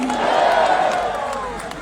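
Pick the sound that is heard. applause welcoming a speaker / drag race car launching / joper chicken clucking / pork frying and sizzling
applause welcoming a speaker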